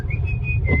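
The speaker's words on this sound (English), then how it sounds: "that sound is our confident driver whistling Beethoven's Fifth" A driver whistles Beethoven's Fifth, a steady, clear melody over a loud, rumbling low background noise.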